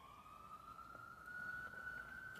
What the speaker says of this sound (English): I hear the ambulance.